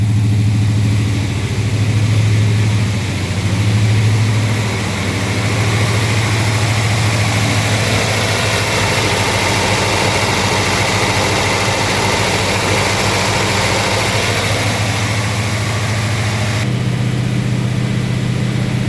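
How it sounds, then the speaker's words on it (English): A 1970 Buick Skylark fitted with a 284-88H cam holds a fast idle around 1600 RPM, a steady, loud, even engine drone that runs unbroken with no talking. "So we're on fast idle right now, about 1600 RPM."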